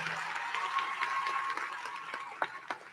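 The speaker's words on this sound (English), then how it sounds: "Please give them a round of applause." Scattered applause from a graduation audience in an activity center for the Texas Academy of Biomedical Sciences seniors, moderately faint with a few sharper individual claps standing out near the end.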